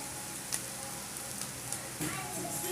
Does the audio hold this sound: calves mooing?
no